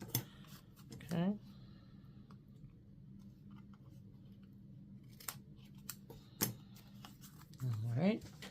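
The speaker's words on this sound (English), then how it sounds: "I just use my scissors and just kind of round them off a little bit" Scissors snip the corners off playing cards, a few brief close cuts spaced several seconds apart, with quiet talking in between.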